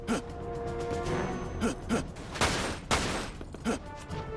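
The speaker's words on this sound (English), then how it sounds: "Where are those shots coming from?" Sniper gunshots in the video game Dirge of Cerberus, fired down from above, come as a few sharp, loud bursts. They punch through a busy game soundscape that also carries short gasping, grunting vocal effects.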